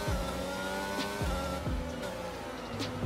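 A Formula 1 car in the F1 22 racing game roars loudly as it spins out, its engine pitch repeatedly dropping and climbing through sharp rev changes over about three seconds, with no voices.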